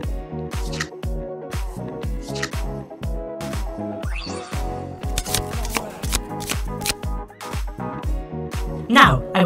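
Force of Will trading card deck being shuffled by hand, a rapid series of crisp riffling card snaps and slaps in uneven bursts, close and clear, with a voice briefly heard.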